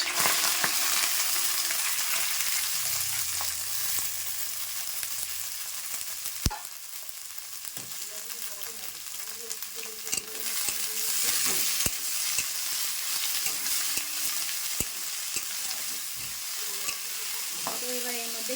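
Vegetables frying in a pan with garam masala and bay leaf, a constant bright sizzle with occasional clinks of a stirring spoon and a few short scrapes.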